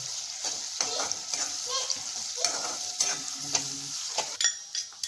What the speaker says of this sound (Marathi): कांदा चांगला परतून घ्याव